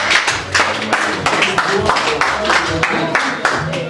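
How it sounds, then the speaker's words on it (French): A birthday party audience claps for a performer, sharp irregular hand claps arriving in uneven bursts, close and lively, with voices and noise mixed in. "J'aimerais qu'on applaudisse pour Belson."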